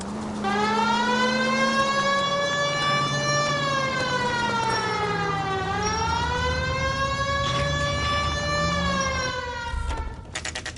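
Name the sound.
police car siren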